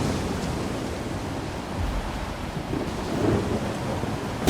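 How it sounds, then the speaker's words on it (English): A thunderstorm in the video game S.T.A.L.K.E.R. 2 roars as a steady, dense wash of heavy rain with low rumbling thunder rolling underneath, loud and continuous throughout, no talking. "Will I get struck by lightning?"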